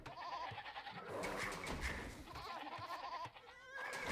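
Sheep bleat in Age of Empires II amid continuous game sounds and music, a few wavering animal calls rising over a busy in-game background.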